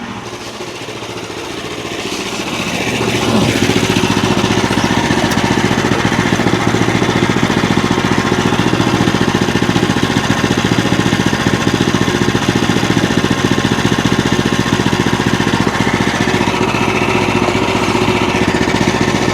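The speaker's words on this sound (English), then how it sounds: "Idling without the choke. Listen to her purr." A small two-stroke gasoline engine on a portable wood mill revs up, then settles into a loud, steady, rattling idle without the choke, running close by and alone for the rest of the clip.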